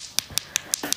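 A very hard, cola-flavored Russian black lollipop is tapped against a hard surface, giving five crisp, evenly spaced clicks up close.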